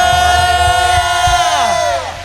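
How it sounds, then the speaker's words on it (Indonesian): A worship congregation at a Pentecost service shouts hallelujah together, a loud, sustained collective cry with a strong ringing tone that tails off and fades near the end. "Sorakan haleluya."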